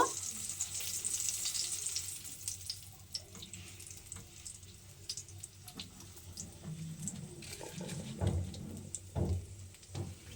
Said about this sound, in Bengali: আর এইভাবেই কিন্তু আমি শিমগুলোকে ভেজে নেব